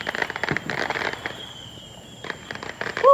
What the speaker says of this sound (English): I'm walking down the street to go look at these fireworks these people are popping